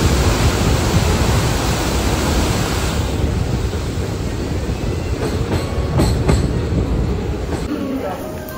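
Passenger train from Sealdah to NJP running steadily, a continuous loud broadband rumble of wheels and carriage with faint rhythmic clacks and brief higher squeals near the end, heard from inside the coach.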